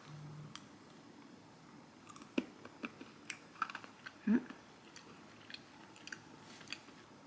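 Crunchy bites and chewing on a peach-flavored vitamin D tablet that also contains vitamin K, heard up close as scattered irregular clicks and crunches over a quiet room.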